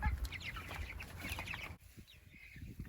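Young chickens, 25 birds, in a small chicken tractor outdoors: continuous overlapping peeping and clucking from the flock, with a steady background hiss.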